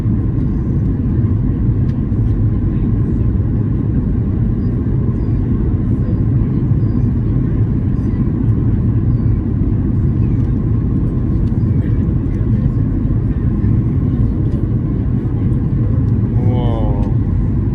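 A Norwegian Boeing 737-8JP airliner on approach, heard from inside the cabin as a loud, steady engine and airflow rumble that fills the whole stretch, with speech over it.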